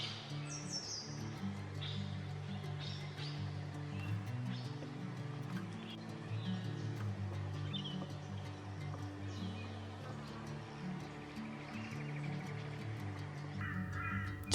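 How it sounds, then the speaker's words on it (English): Red-browed finches give small, high tinkling calls in forest scrub at Mount Glorious near Brisbane. Scattered chirps sit among other birds at a moderate distance, with a steady background of birdsong throughout. "I often notice these red-browed finches first by their tiny tinkling calls"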